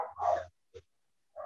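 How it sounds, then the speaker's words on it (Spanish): Dogs barking indoors nearby, one short bark followed by a brief yelp and another onset, faint and intermittent with silence between. "perdón los perros"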